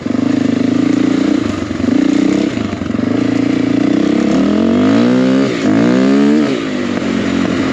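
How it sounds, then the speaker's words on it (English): A KTM 450 motorcycle runs loud and close, its engine droning steadily, then revving up and down in rising and falling sweeps as the bike is ridden. "All right, now we're on a KTM 450."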